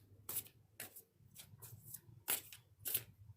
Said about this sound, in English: let me just quickly just shuffle my cards